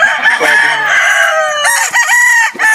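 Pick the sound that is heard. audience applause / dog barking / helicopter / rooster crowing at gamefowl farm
rooster crowing at gamefowl farm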